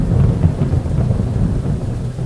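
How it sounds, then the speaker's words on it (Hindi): Heavy night rain from a thunderstorm in a dark, narrow alley, a steady loud wash of downpour with deep rolling rumbles of thunder running continuously underneath, no voices. "भयानक वर्षा की रात"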